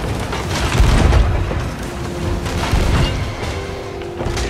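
Ballast fired at ships in a naval video game booms in deep, rumbling blasts, a heavy thud near the start and another later, over a dull continuous low roar, loud and close, with no talking.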